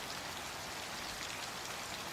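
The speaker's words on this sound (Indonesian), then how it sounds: "ditemani suara hujan deras yang mengguyur kaca jendela" Heavy rain pours against office window glass at night, a dense, even hiss of drops that holds steady throughout, moderately loud with no voices.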